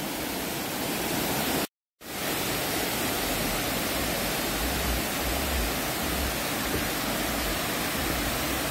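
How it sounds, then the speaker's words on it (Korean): Tat Sae waterfall near Luang Prabang, Laos, roaring as a steady, dense, broadband rush of falling water, loud and continuous, with a brief dropout near the start. "따스의 폭포입니다."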